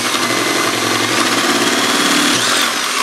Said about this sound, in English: this is some quality drilling going on here